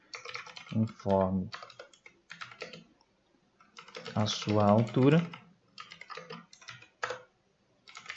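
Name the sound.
typing on a computer keyboard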